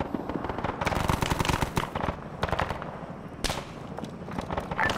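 Machine gun fire in a video game campaign mod set in 1960s Argentina, rattling in rapid bursts mixed with scattered gunshots and distant explosions, fairly loud and sustained.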